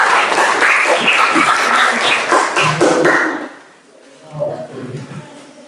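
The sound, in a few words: classroom applause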